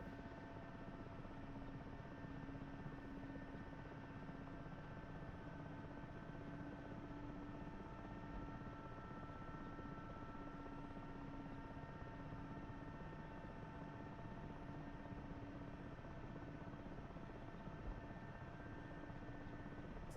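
Helicopter rotor and engine in the DCS flight simulator give a steady, droning whine with a constant low throb, unbroken and even for the whole stretch.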